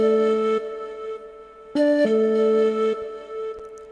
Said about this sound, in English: this flute sound that played some amazing melodies in the beat